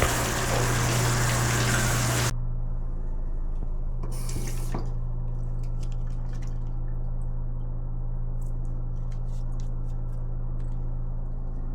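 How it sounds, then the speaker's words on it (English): Shower water running in a loud, rushing spray for about two seconds before cutting off, followed by a short second burst and then quiet drips and small knocks. "Let's go take a shower."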